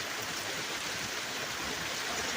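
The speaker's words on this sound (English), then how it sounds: "and it's raining" Steady rain falls during a tornado watch, a dense unbroken hiss of water that holds at an even level throughout with no voices.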